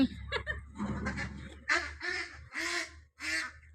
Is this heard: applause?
no